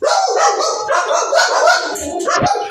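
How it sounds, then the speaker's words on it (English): Several dogs bark and yip in a dense, continuous chorus close by, loud and overlapping throughout, with a rough howl-like edge and no clear pauses. "That's my dogs."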